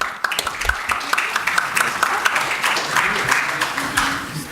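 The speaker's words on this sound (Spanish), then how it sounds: "les pido que lo reciban con fuertes aplausos" Audience applause welcoming a speaker at a law seminar on damages, a loose burst of clapping with individual sharp claps standing out, fairly close, over a murmuring room.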